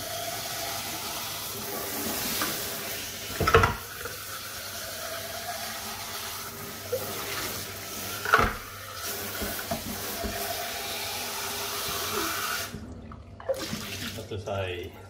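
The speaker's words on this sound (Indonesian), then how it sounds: "pakai air aja, air mengalir aja." A tap runs as water rinses the milk parts of a Nespresso Gran Lattissima coffee machine, a steady close hiss with a few louder splashes and clunks, under quiet talking, and it stops near the end.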